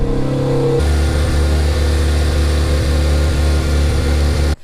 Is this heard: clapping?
no